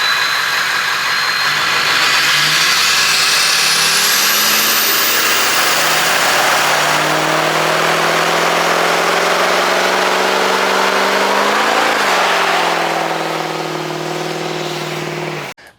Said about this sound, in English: That's why I'm keeping the 4-inch exhaust, because I like that note the best.